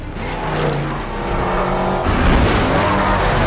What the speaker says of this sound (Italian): Wow, che rombi.